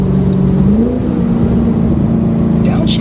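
A custom-tuned Chevy SS V8 engine droning steadily under load, its pitch rising and holding, loud and close from inside the car, with a brief higher blip near the end.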